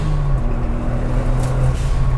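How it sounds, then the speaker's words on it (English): A tiny Suzuki Alto Works engine hums at a steady pitch, close and loud, with a faint high turbo whine above it and no talk. "The highest pitch little turbo spool ever."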